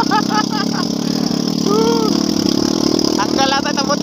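A motorcycle with its exhaust pipe broken off roars loudly and raggedly at close range for the whole stretch, while voices talk over the engine noise.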